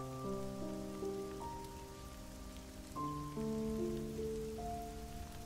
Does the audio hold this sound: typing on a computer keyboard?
no